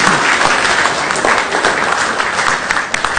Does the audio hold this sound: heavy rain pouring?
no